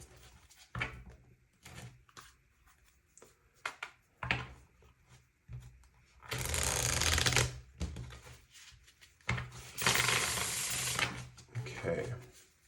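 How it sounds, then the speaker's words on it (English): Tarot cards shuffled by hand in two loud, sustained riffling bursts, with softer card handling, taps and brief voice sounds between them, heard close up. "I'm being called to shuffle a little bit more than normal."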